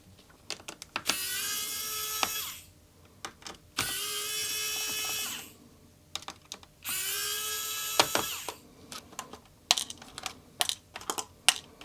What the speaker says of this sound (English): I'm gonna open the keyboard backplate and remove it